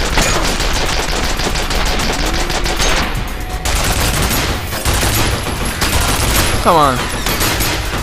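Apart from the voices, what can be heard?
turret firing in the video game F.E.A.R. Perseus Mandate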